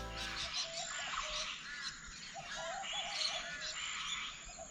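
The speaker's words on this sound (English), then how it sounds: "Hear the bird life," Busy bird life by a river in Cape York, Queensland, with many overlapping chirps and warbling calls at moderate distance, joined by frog- or insect-like trills over a soft natural background, no talking.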